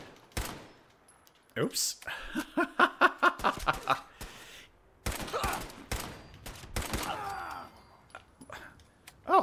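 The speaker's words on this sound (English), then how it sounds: "Oh, this is an automatic pistol." Automatic pistol firing in the video game Fallout 4: rapid bursts of sharp gunshots in quick rhythmic strings, separated by short pauses, with a voice speaking briefly between the volleys.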